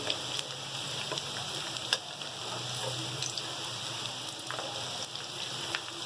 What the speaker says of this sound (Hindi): ये देखें माशाल्लाह से हमारे कबाब बहुत जल्दी फ्राई हुए हैं।